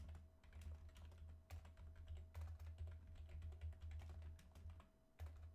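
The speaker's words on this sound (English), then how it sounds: "That is a lot of typing." Steady typing on a computer keyboard, rapid soft key clicks running almost continuously with brief pauses, over a constant low electrical hum.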